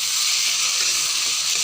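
Hot water poured into taro frying in a pan raises a loud, steady hiss of sizzling and steam that holds unbroken to the end, with no voices.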